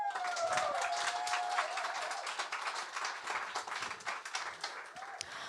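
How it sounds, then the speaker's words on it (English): An audience at a Seattle book club music night gives a warm round of applause, dense steady clapping that holds for several seconds, with a voice briefly audible at the start. "So big round of applause."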